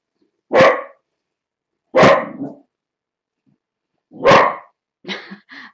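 A dog barks three times at spaced intervals, sharp and fairly close in a quiet indoor setting, followed by a softer run of short yips or grumbles at the end.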